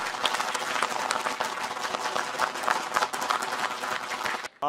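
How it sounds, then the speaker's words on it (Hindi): Loud sustained audience applause at an Urdu mushaira in Dubai, a dense roar of many hands clapping that cuts off abruptly at the end. "हम चाहते हैं कि हमारे जितने भी स्पॉन्सर्स हैं उनके लिए भी एक दफ़ा ज़ोरदार तालियां"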